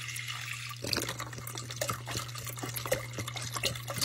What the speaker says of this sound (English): You're gonna pour you some chicken broth in this boiler.